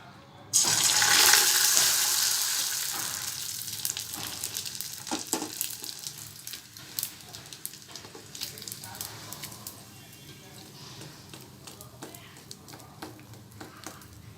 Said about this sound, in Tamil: இதை இப்போது உங்களுக்கு நான் பொரிச்சு காட்டுறேன்